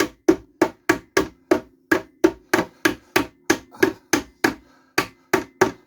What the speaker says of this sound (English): Why don't you use a hammer?